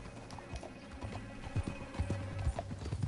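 Hooves clip-clop in a quick, uneven galloping rhythm as a horse runs in the video game Red Dead Redemption 2, close and moderately loud throughout.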